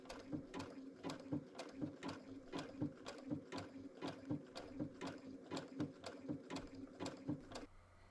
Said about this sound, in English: I'm using a blind hem stitch to machine applique the points onto the plaid.